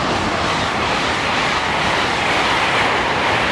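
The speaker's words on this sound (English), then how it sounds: "there's an incredible amount of trains coming past" A train rolls past on the railway, a steady, loud, broadband rumble and rush that stays constant throughout with no voices.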